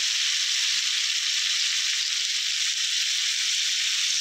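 Boiled bitter gourd fries in hot oil with turmeric, a steady, dense sizzle that holds evenly throughout with no pauses and a faint low bubbling beneath.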